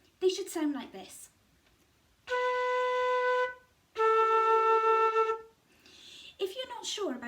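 Beginner flute sounds two long steady notes, B then A, each held for over a second with a short gap between, while a voice talks briefly before and after.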